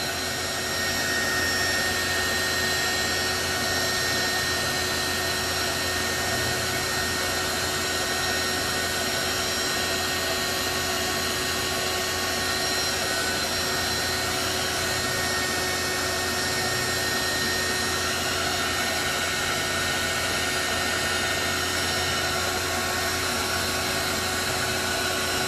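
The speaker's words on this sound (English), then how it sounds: "Now you can use the heat gun to push it up, push it down." A heat gun blows hot air onto ink on a tumbler with a steady, loud whooshing hum that holds constant and alone throughout.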